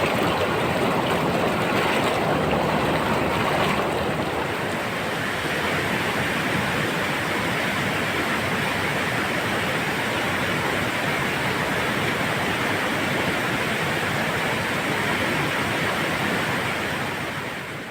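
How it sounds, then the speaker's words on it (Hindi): Heavy river water rushes down from the Shoq Valley in Pakistan, a loud, dense, unbroken roar of turbulent flow heard close and constant throughout, with no voices. "ये ज़्यादा पानी शौक वैली से नीचे उतर रहा है।"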